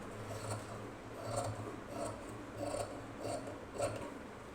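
Scissors snip through blouse fabric during tailoring cutting, about six or seven short crisp cuts at a steady rhythm, close and fairly quiet with no talking.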